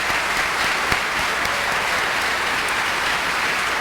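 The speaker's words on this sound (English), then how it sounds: "So we owe them a big round of applause" A large crowd applauds steadily, a dense and even wash of clapping that holds at the same level throughout.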